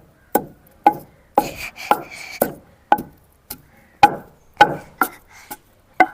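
Garlic and salt are pounded in a stone mortar for village-style gongura chutney, with about a dozen sharp, close thuds in a steady, slightly uneven rhythm and short pauses between strikes.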